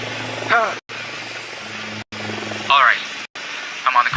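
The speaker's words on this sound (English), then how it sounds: "Deploying drone." Drone deploying in the tactical shooter Ghost Recon Wildlands, a steady whirring rotor hum held at an even level with short cutouts, while a voice speaks over it.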